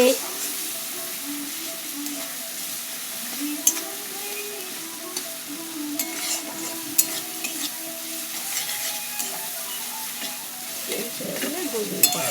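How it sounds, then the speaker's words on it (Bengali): Ground spices and turmeric frying in oil for ghugni are stirred in a pan: a faint, steady sizzle runs throughout, with the scrape and clink of a spoon against the pan at intervals. "এবার সব কিছুকে ভালো করে নাড়াচাড়া করে নেব, মিক্স করে নিচ্ছি সব কিছু দিয়ে।"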